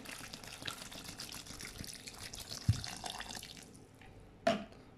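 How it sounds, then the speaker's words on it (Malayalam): Water pours softly into a pressure cooker packed with vegetables: a quiet, continuous trickling wash with a couple of small splashy drips near the end, and no voices. "വെള്ളം ഒഴിച്ച്"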